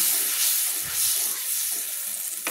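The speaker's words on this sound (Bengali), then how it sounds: "দেখুন আমি এবার মশলাটাকে সুন্দর করে কষিয়ে নিচ্ছি।" Spice paste for a chang fish curry sizzles steadily in an oil-filled pan after a splash of water, a continuous close, bright frying hiss with faint stirring underneath.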